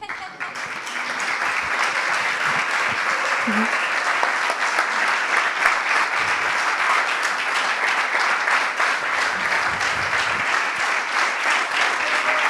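A large audience claps steadily and loudly for Mimi at a French association summit, a dense, sustained wash of applause with no break.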